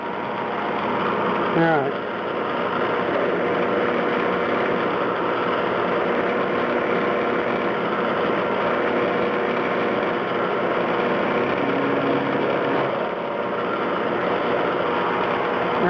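A CNC machine runs steadily while cutting a steel muzzle brake, a continuous loud whirring mechanical drone with a brief sweeping tone near the start and a shift near the end; someone speaks briefly over it.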